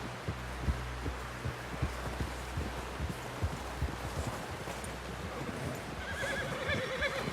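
Horse hooves clop in a steady, muffled rhythm in Red Dead Redemption 2, with a neigh near the end and a low wind-like background.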